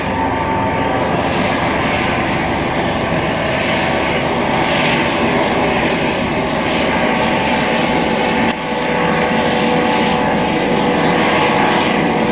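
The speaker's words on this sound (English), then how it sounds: "Got a helicopter coming in," A loud, steady engine roar with a churning, pulsing rumble, like a helicopter hovering close overhead, no talk.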